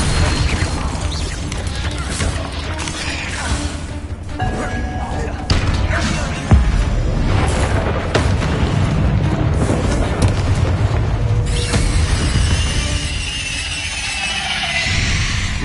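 Confringo explosive spell from Hogwarts Legacy bursting amid dense, continuous game combat noise, with booming hits and crashes over roughly fifteen seconds; spoken incantations mix in with the fight.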